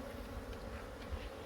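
Honey bees hum inside a two-way mating nuc hive, a soft continuous buzz from many insects close by, steady and low with small swells, and no voices.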